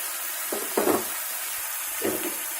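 Bitter gourd and sliced onion drop into potatoes frying in a pan, giving a couple of short stirring scrapes and sizzles over a steady background hiss, close and fairly quiet.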